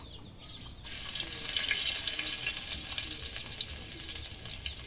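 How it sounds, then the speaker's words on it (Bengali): Garlic hits hot oil in a pan and sets off a dense, bright sizzle that flares up at once and keeps hissing steadily for several seconds, close and loud. "এখন তেলের মধ্যে রসুন দিয়ে দিই।"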